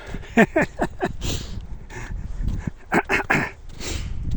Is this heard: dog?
yes